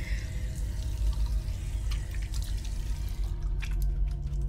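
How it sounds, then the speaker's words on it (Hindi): Water runs steadily into a sink as a woman hurriedly washes her face, a horror story sound effect: a continuous close splashing wash with a few brighter drips and splashes near the end. "टॉयलेट जाकर जल्दी जल्दी अपने फेस को वॉश करती है"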